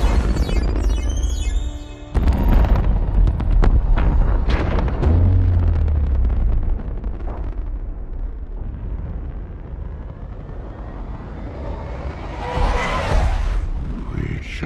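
A grenade explosion in a toy-train Transformers battle scene, booming loudly with heavy low rumble and crackling debris, followed by lingering rumbling blasts that fade and swell again.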